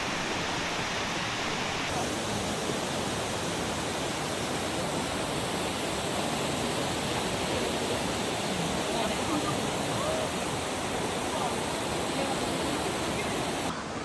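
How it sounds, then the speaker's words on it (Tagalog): A waterfall at Ningle Terrace in Sapporo on a winter night gives a loud, continuous broadband roar that stays steady throughout, with faint talk beneath it. "Ayan na yung waterfall."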